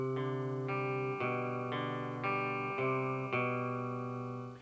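Electric guitar playing a closing riff, a slow sequence of sustained, ringing chords through an effects unit, clear and alone with no talking.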